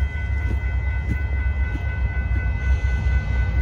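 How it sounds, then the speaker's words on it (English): A northbound Kansas City Southern de Mexico auto train rolls past at night in Austin, Texas, a steady close low rumble of cars on rails with faint high tonal whine throughout, no voices. "Here comes that Kansas City Southern Medical train."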